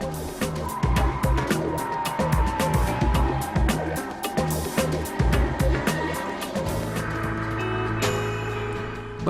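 A Porsche 911 Turbo (997) engine rumbles and revs with a throaty, fluctuating growl, fairly loud and close, settling into a steadier drone near the end.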